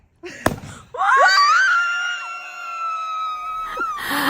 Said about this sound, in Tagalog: grabe talaga ang sigaw ko dito